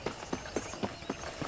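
Horse hooves clip-clop at a steady walking pace across a ranch property in the video game Red Dead Redemption, six evenly spaced thuds, fairly quiet and heard on their own.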